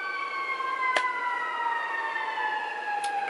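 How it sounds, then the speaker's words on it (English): Wailing sirens sweep steadily downward in pitch, sustained throughout at moderate distance, with a couple of brief sharp clicks. "got interrupted by the sirens."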